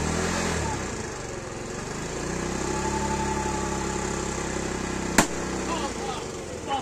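Motorcycle engine revved steadily through its exhaust to inflate a balloon, a dense, continuous mechanical drone held throughout, ending in one sharp loud pop near the end.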